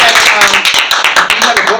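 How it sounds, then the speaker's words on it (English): Brief clapping from a small interview audience, a short burst of hand claps following a singer's talk, fairly close and busy, with voices mixed in. "Give her a round of applause"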